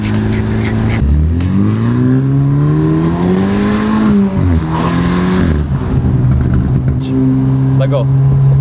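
BMW F30 320i with a BM3 tune accelerating hard, engine note rising and falling through gear changes with crackling exhaust burbles, loud and close, with excited voices talking over it.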